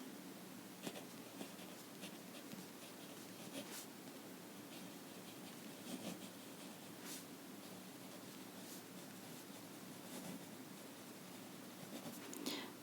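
A pen or marker scratches and taps faintly across a paper diagram of triangles, soft intermittent strokes over a quiet noisy background.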